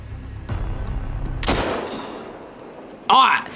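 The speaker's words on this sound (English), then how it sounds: "All right, that should be two good shots on two bull moose." Rifle shots from a drilling rifle fired at two bull moose while hunting in Hunter Call of the Wild: a sharp report near the start, a louder blast at about one and a half seconds with a ringing tail, then a short burst near the end.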